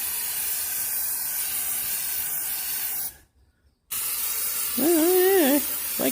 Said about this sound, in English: let's get to spraying this, and we'll see how we do